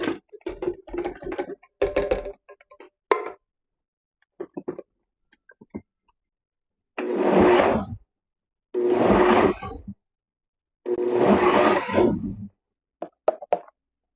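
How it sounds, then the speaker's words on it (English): A blender pulses fire-roasted diced tomatoes in three loud, separate bursts of about a second each, preceded by soft clunks and plops as the ingredients are dumped into the jar. "We're just going to dump it into this blender. Then we're going to give it a few quick pulses"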